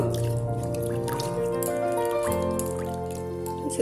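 Water drips and trickles steadily from washed chhena, a soft cottage cheese, as it is squeezed by hand; a faint continuous wet patter, close and quiet, with no talking.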